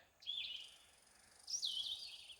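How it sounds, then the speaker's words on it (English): A chipping sparrow near spruce trees by a parking lot sings two high, rapid trilled phrases, moderately distant and faint, over quiet outdoor background. "The chipping sparrow up over in here."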